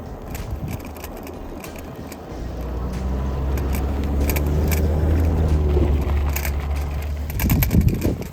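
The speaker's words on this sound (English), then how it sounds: "Traffic." Road traffic near a trailhead entrance, likely a passing delivery van, heard as a steady low rumble that swells from about two seconds and holds, with wind noise and a brief louder burst near the end.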